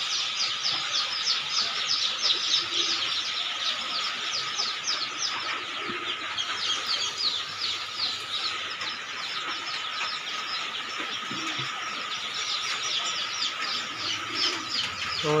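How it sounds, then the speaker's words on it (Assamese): Young ducklings keep up a busy chorus of rapid high peeps and chirps, steady and close throughout with occasional rustling and no speech. "এইটো হৈছে হাঁহ পোৱালি।"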